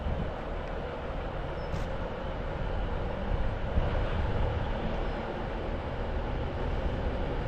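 Avanti train at Preston station, a steady broad rumble of rolling stock and engine noise holding evenly throughout with no talk.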